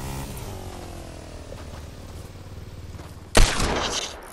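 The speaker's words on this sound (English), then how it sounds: "I just got shot" A video-game firefight brings a long rattle of gunfire, then one sudden loud sharp gunshot burst near the end, followed by a rough noisy tail.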